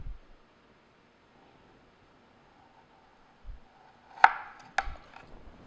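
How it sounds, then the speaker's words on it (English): A sharp knife cuts thin slices from a chilled log of chocolate cookie dough, giving a few crisp, distinct chops close by against a quiet background. "with the sharp knife, we're going to cut into just fairly thin slices, about 1/4 of an inch"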